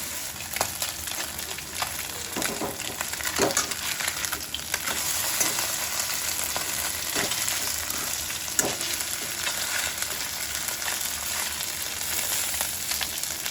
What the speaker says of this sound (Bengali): মাছটা তখন ভালোভাবে ভাজা হোক